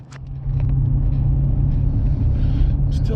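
A Toyota car driving on the road near Albuquerque, heard from inside as a steady, loud low engine and road rumble that holds evenly throughout.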